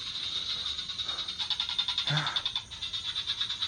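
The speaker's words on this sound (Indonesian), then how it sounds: "ini suara kodok dia tuh kayak ledek banget ya." A frog croaks in a rapid rattling series at a villa, fairly close and steady, while a person speaks briefly over it.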